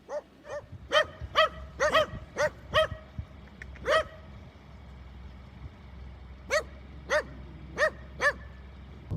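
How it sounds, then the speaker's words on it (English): Several dogs bark in short bursts, a quick cluster of sharp barks followed by a pause and a second run of barks, fairly close, over low traffic rumble with no talk. "Then I have these dogs over here barking at me."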